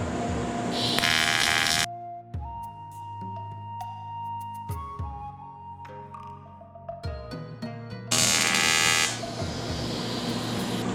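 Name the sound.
TIG welding with Blue Demon flexible tungsten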